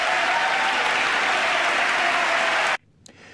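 Loud, dense audience applause from a played political speech clip rolls on steadily for nearly three seconds, then cuts off abruptly into near silence.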